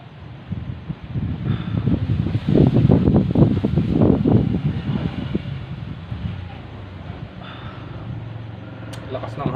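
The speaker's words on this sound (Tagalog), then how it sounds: "Lakas ng hangin." Strong wind buffets the microphone in rough gusts, loudest in the middle and easing later, with faint voices underneath.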